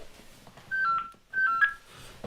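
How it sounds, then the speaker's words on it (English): A house telephone ringing indoors with two electronic trilling ring bursts separated by a short gap, moderately loud, set against quiet room noise. "somebody ringing the house phone"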